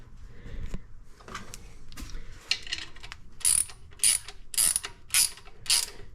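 Exhaust bolts on a 1987 Dodge D100 being tightened with a ratchet, a few scattered clicks at first, then five evenly spaced bursts of rapid ratcheting close by.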